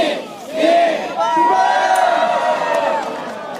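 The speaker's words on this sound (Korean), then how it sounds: "출발 신호와 함께 마라톤 참가자들이 힘차게 달려나갑니다" Crowd of marathon runners at Hwanho Sunrise Park in Pohang shouting and cheering together as they set off from the start, a loud, sustained mass of voices rising and holding steady.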